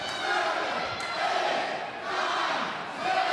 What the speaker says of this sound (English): The crowd counting in unison.